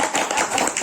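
Audience clapping at a spiritual discourse, a short burst of steady, dense applause filling the moment without speech.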